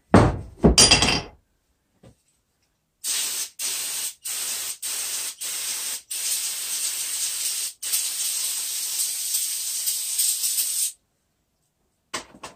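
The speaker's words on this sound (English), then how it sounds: "I got some brake cleaner. Let these holes drain." Brake cleaner sprays from an aerosol can into bolt holes during a Yukon Grizzly differential locker install, in a run of short rhythmic hissing bursts and then one long continuous hiss, with a couple of metallic knocks at the start.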